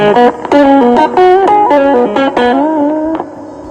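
Loud, slightly distorted guitar notes played through the spring reverb of a Fernandes practice guitar amp, a quick run of plucked notes with a splashy, ringing tail that fades at the end.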